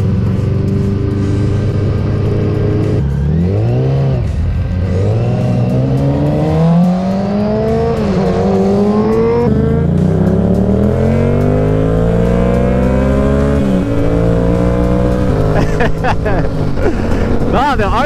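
A Yamaha R7 motorcycle being ridden and revved, its engine note climbing and dropping in repeated sweeps, loud and close throughout with a steady growl underneath.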